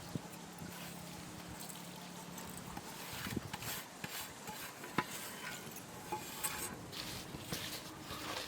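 Raw mango pickle ingredients are mixed by hand, a continuous close-up scraping and stirring with soft, irregular clicks and rustles throughout.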